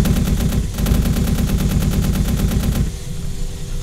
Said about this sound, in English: And this is the cannon.